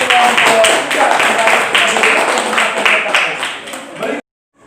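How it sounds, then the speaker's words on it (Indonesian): A classroom of students claps for a group, a dense, lively patter of many hands that cuts off abruptly at the end. "kita tepuk tangan untuk kelompok"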